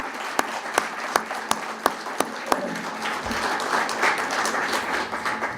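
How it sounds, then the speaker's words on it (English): An indoor audience applauds caregivers at an anniversary celebration, with a few sharp claps at first that swell into steady, full applause from a crowd. "Maybe a round of applause for all your caregivers here."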